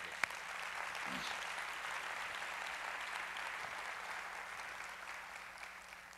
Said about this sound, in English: Let's give the governor another big round of applause, please.